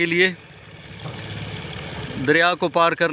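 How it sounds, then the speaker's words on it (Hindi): An engine-powered passenger river boat pulls up to the bank after crossing the river, its steady low mid-pitched engine drone running through the middle, with people talking loudly before and after. "और ये कश्ती, इंजन वाली कश्ती, पीटर वाली कश्ती अब परले किनारे से आते हुए इस किनारे पर पहुंच चुकी है"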